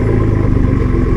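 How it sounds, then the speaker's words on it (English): Ford F-150 EcoBoost engine, a 2014 Tremor with a new exhaust, gives a brief, loud, steady low rumbling drone with a pulsing exhaust burble. "can an Ecoboost actually sound good with an exhaust?"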